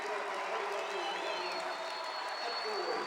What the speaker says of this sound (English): Thunderous standing applause for your Eagles.